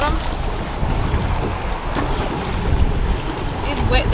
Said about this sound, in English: The wind and the waves are picking up like crazy.